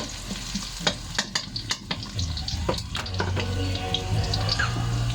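Garlic stirred and sizzling in a hot frying pan for a home-cooked dish, with scraping clicks of a utensil early on over a steady frying hiss.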